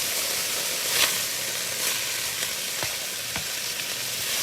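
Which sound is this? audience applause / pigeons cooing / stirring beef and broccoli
stirring beef and broccoli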